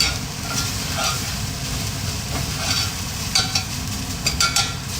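Chunks of food being stirred as they fry in a pan, a steady sizzle with scraping and shuffling stir sounds up close, and a few sharper clatters near the end.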